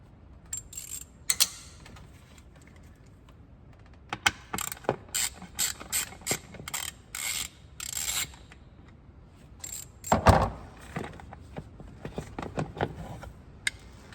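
Ratchet with a small T25 Torx bit backing screws out of plastic on a vehicle, bursts of quick clicking pawl ratchets repeated in short strokes, close and crisp with a louder clatter midway, no speech.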